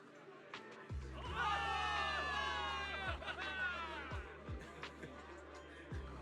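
A crowd cheers and hollers loudly in the video game Zenless Zone Zero, a sustained roar of many voices with a few low thuds underneath.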